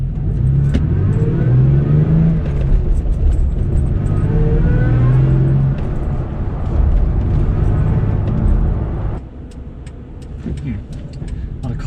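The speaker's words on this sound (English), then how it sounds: "you can still hear mainly supercharger whine" A supercharged, six-speed 2015 second-generation Toyota Tacoma accelerating, heard from inside the cab as a loud, sustained engine drone with rising, shifting whine through gear changes, easing off near the end.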